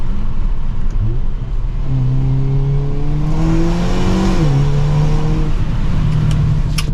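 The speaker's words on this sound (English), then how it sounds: "The exhaust has a pretty cool sound to it as well." The engine and exhaust of a 2023 Hyundai Kona N rise in pitch as it accelerates, with a gear change midway and a throaty drone heard from inside.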